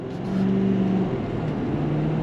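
A 2022 Ford F-350 Super Duty pickup with a 10-speed automatic pulls away under throttle, its engine drone swelling and holding steady with a rising hum, heard from inside the cab without talk.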